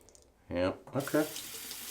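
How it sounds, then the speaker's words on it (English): Tap water runs briefly into a sink to rinse a Philips OneBlade shaver, a short close splash and hiss starting about halfway through, overlapping a voice. "let me give this a rinse"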